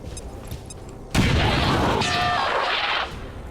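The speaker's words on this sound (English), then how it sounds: "Let's go ahead and throw a grenade so everybody can see what kind of effects that looks like." A grenade explodes in XCOM 2 with a sudden loud blast that rolls into a roaring rumble for about two seconds before dropping back to a quieter background, with no talking.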